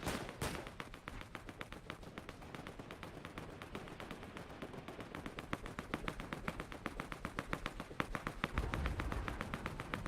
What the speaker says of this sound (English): Lots of shots fired, actually, from, I believe, the northeast.